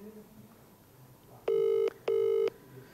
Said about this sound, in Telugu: ఎస్, రింగ్ అవుతుంది.